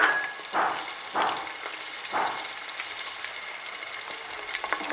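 Garlic paste and dried red chili paste hit hot oil in a pan, giving a steady close sizzle with a few louder bursts of frying and stirring scrapes.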